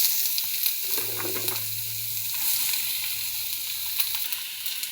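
Radish fries in a pan with a steady close hiss of sizzling oil, a low hum running beneath it and a few light crackles and scrapes, with no talking.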